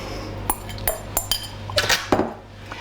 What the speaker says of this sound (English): Mix it all together quickly.